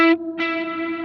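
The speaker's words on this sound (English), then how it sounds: "The reverb only affects that one delayed repeat in this case." A Line 6 Helix Heliosphere delay on a sustained guitar note: the dry note cuts off, then a single delayed repeat returns wrapped in reverb with a long, smooth decay.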